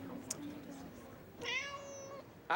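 A cat meows once in a drawn-out, rising-and-falling call, heard fairly close over a quiet background with a faint voice earlier.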